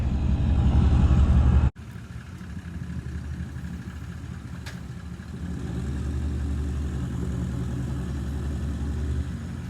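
A car engine hums steadily while towing a boat trailer, cutting out abruptly early on and then running on as a low, continuous drone that swells slightly as it pulls away.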